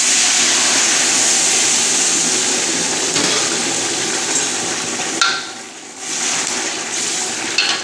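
Water goes into a hot pot of frying buckwheat pilaf, making a loud sustained sizzling hiss that fades in the middle, swells again and breaks into a few sharp bursts near the end.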